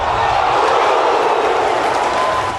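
A football stadium crowd roars in a dense, steady wash of cheering from supporters of Londrina, continuous and loud without distinct breaks.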